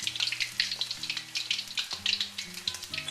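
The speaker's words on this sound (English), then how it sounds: "You're going to fry these until they're light golden brown" Steady crackling sizzle of chicken pieces deep frying in hot oil, with a low hum running underneath throughout.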